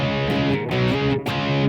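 Electric guitar played through a Blackstar ID:Core 20 V3 amp on its regular crunch preset, a short burst of loud, overdriven strummed chords with two brief pick attacks, no voices.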